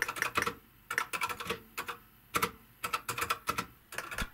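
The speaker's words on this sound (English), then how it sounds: "it's just like typing on one of those old quality clicky keyboards that you used to get with old XT PCs" Rapid clicky typing on a computer keyboard with big chunky keys, like old XT PC keyboards: crisp, close keystrokes in uneven bursts with short pauses between them.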